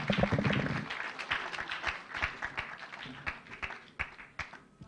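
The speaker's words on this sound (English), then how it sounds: "Please give him a round of applause one more time." Clapping from an audience at an ethical living project grand finale, starting under a brief voice, then scattered, uneven claps continuing at moderate distance and thinning out.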